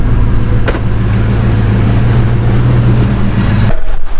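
A vehicle engine runs loudly and steadily with a low rumble while pulling a trailer out, then drops off abruptly near the end.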